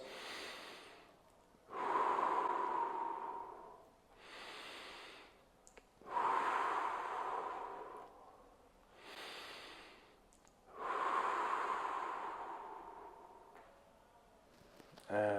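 Slow, deep breaths during a shoulder and neck stretch with a resistance band: three long, airy exhales, close and clear, spaced by quiet pauses, and a fourth breath beginning at the end.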